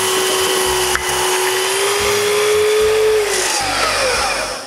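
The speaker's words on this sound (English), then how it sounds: "I clamp the 4 back rings together and cut them to the same length in one shot." A power saw whines loudly and close as it cuts through four clamped wooden shelf boards at once, holding a steady tone before winding down at the end.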